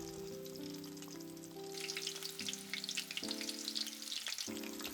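Salmon pieces fry in hot oil, giving a quiet, continuous sizzle that grows into crackling bubbling halfway through. A steady tonal hum sits underneath, and nobody speaks.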